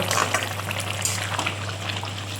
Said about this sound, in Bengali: দেখো এমন মাছের ঝোল ফুটছে